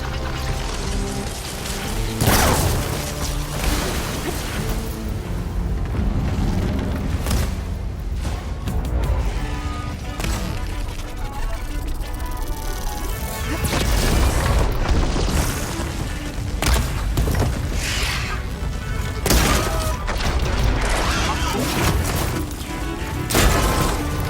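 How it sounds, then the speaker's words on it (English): A plasma explosion in the video game Horizon Forbidden West, heard within a dense, loud wash of game combat noise with mechanical clanks, booms and rumbling impacts. "Plasma's going to explode!"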